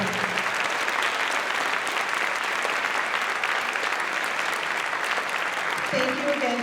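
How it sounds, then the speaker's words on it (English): A TEDx audience gives a sustained round of applause for the presenters, dense steady clapping from a full room throughout, with a voice speaking over it near the end. "I'd like to give another huge round of applause for all our presenters today"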